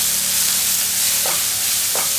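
Ginger garlic paste fries in hot oil for chicken lollipop, a loud, continuous close sizzle with two brief stirring scrapes near the end and no voices.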